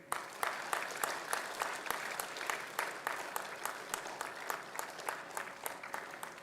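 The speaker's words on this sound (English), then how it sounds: "I keep clapping." An audience at an MBA and M.Tech graduation day ceremony keeps up steady applause, with individual claps standing out in a brisk, even rhythm, moderately loud in a hall, with no speech over it.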